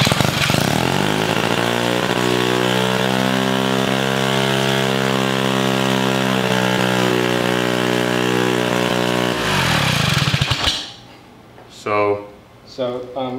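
A turbocharged rotary engine on a minibike runs loud and close with a steady droning hum for about ten seconds, then cuts off abruptly, leaving short bursts of talk.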